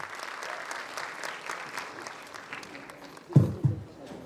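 Applause from a convocation ceremony audience at a medical sciences institute, a steady moderate wash of many hands clapping throughout, with a couple of louder low thumps near the end.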